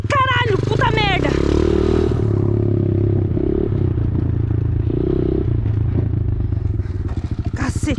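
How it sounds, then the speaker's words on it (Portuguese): A motorcycle engine idles nearby with a steady low rumble and rattling clatter throughout, while people talk and shout over it. "desliga a moto do Johnny!"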